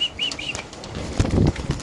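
Pigeons flapping their wings while being handled at a pigeon market, a short burst of wingbeats close by with a few faint bird calls at the start.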